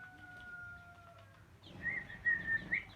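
Pet birds kept inside a room give a few faint, high chirps and short whistles near the end, after a quieter stretch of soft room tone and a thin steady tone.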